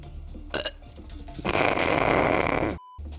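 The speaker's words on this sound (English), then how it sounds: "Nice burp" A long, loud, rasping burp from a player during a VALORANT gaming session, rumbling for over a second up close, preceded by short vocal noises and cut off abruptly.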